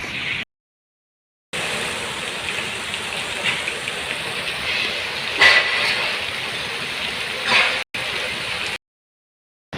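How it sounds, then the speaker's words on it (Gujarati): Steady rain hiss during a truck trip near Bharuch, a broad continuous wash with a couple of brief louder splashes, cutting in and out with short silent gaps. "2-3 કલાકે વરસાદ ચાલુ થઈ જાય"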